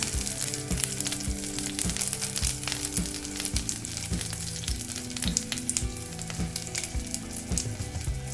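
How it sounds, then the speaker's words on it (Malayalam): Oil sizzles in a hot pan while chicken handi is being cooked, a continuous crackling fry with regular soft knocks of a stirring utensil, close and moderately loud. "ഇനിയിപ്പോൾ 2 സ്പൂൺ ഓയിൽ ഒഴിച്ചു കൊടുക്കാം"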